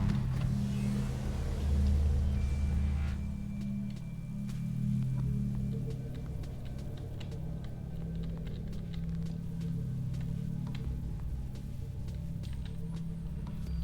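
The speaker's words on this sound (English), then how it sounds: "Engine powering up." A vehicle engine in the Subnautica video game powers up with a deep, steady rumble that swells and holds, loud and close, with a faint higher whine over it and no talk.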